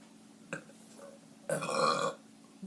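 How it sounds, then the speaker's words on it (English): A slow, drawn-out human burp, faint and close in a quiet room, preceded by a brief small knock and lasting about half a second. "It was like slow motion burp, so pardon me."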